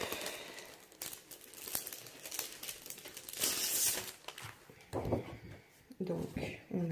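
Crinkly paper rustles and crackles as a scrapbooking paper kit is opened, sharp close crinkles and tearing sounds in bursts, with someone speaking French softly throughout.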